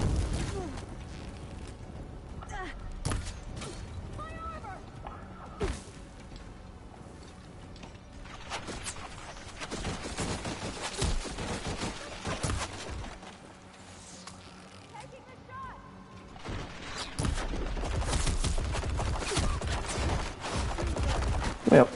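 Minigun gunfire from the video game Horizon Forbidden West, heard as dense bursts of rapid shots amid other game effects, with someone talking over much of it.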